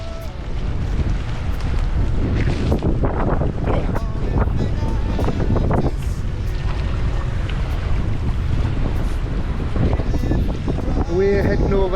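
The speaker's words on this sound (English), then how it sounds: "the weather has turned with the wind" Strong wind buffets the microphone on Loch Ness during a canoe trip, a constant loud roar and rumble with gusting peaks throughout, mixed with splashing water and a faint voice.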